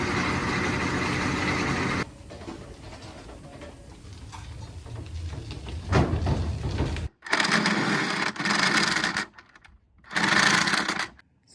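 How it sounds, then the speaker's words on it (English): A Kenmore washing machine in rough shape running a drain and spin cycle, giving a steady mechanical hum and rattle that shifts in intensity and cuts in and out in uneven bursts, heard alone without voices. "Set the machine on a drain and spin."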